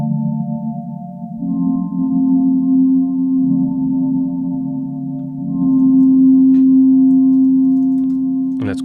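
A sustained Casio vibraphone tone rings out with tremolo and a long, spacey reverb tail, a steady pitched note swelling slightly midway and ending with a faint click, with no talk.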